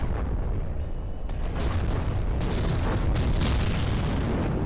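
Ship guns in From the Depths fire at vessels, producing a loud, dense, continuous barrage of overlapping booms and blasts with a few sharper bursts.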